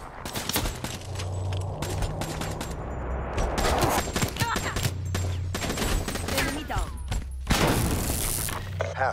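Dense Black Ops 3 multiplayer combat: rapid gunfire and sustained fusillades with booming blasts as an RPG comes in, continuous and loud, with game voice callouts mixed in.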